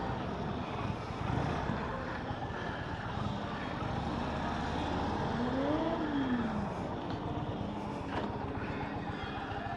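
A 2020 Indian Roadmaster Darkhorse motorcycle engine starting at the Indian of Clarksville dealership, settling into a steady, full-bodied rumble that holds loud and close throughout with faint background noise.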